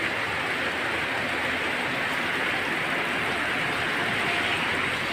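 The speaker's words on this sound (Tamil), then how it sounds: "இன்னும் தொடர்ந்து மழை கனத்த மழை இருக்குது" Heavy rain falls in a dense, unbroken hiss that stays even and loud throughout, with no voices over it.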